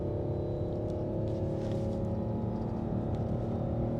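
A 2022 Lexus RX 450h F Sport accelerates at full throttle in eco/normal mode, giving a steady, moderately quiet drone of engine and road noise heard from inside the cabin, without talk.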